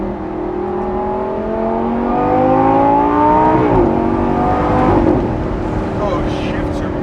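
Lamborghini Gallardo Performante engine, in sport setting and manual mode, revs loud and close with rising harmonic sweeps, then sharp throttle blips as it downshifts, the roar staying steady throughout.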